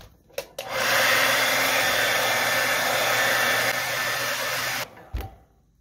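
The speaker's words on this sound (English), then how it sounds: "going to hit it with the hairdryer one more time, get this really, really nice and hot" A hair dryer blows steadily to heat vinyl wrap on a Tamiya Durga model car body, switching on with a click, running loud and close for about four seconds, then cutting off.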